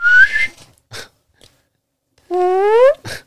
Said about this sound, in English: I heard a Sasquatch whistle